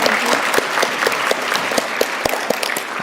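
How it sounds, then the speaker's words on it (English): An audience at a workforce summit plenary session bursts into steady, dense applause, many hands clapping together close by for a few seconds. "I would also like to very briefly applaud Darlene."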